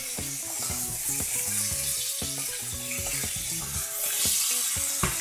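Beef liver frying in hot oil, a loud, close, crackling sizzle with dense popping that holds steady and swells slightly toward the end.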